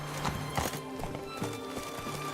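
Hoofbeats of Roach, Geralt's horse in The Witcher 3: Wild Hunt, clip-clopping in a steady galloping rhythm, close and clear over a faint ambient background.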